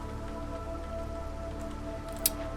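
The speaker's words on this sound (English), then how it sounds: "We're in the drizzle already. We're in the dang drizzle." Soft drizzle falls in the Against the Storm video game, a faint, steady patter of raindrops over a low ambient hum, with one small sharp drip near the end and no voices.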